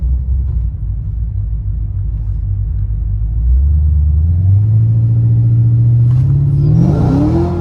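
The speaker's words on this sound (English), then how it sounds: "So I'll try to launch the car up here, see what it does." A Whipple-supercharged fifth-generation Chevrolet Camaro engine idles with a deep, loud rumble, then revs up steadily for a launch, the pitch climbing as it roars louder near the end.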